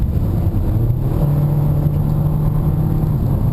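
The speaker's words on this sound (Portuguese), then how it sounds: "Deixa eu fazer uma breve aceleração aqui." Honda HR-V EXL crossover with a CVT accelerating briefly, heard from inside the cabin: a steady engine drone whose tone climbs and then holds high, with constant road hum and no talking.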